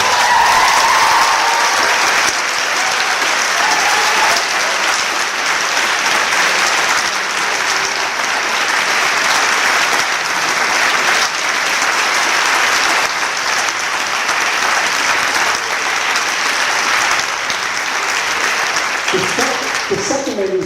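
A large audience applauding at a veterinary school carol service, sustained dense clapping at loud, even level throughout, with some crowd noise and a faint voice near the end.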